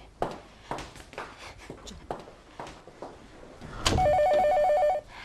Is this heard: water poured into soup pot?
no